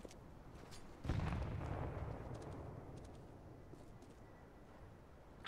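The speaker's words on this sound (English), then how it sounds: "Throwing a grenade." Grenade blast in a video game: one dull, faint boom that rolls off into a long fading rumble, with small clicks and game sounds around it.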